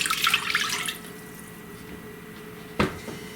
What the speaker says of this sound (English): what I want to add to my skillet is 2 cups of water. I'll pour that in.